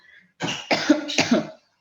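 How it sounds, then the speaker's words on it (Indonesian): Three quick, harsh coughs in a row, close and loud, followed by silence. "Mohon maaf, saya batuk."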